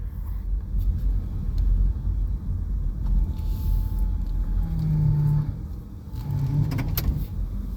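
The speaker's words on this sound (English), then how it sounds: "So that's the railroad truck. You see the front, it can fit on the rails." A logging railroad truck fitted to run on rails near Coos Bay, Oregon, passes with a steady, loud low rumble and engine drone, with a brief tonal whine partway through and no talk.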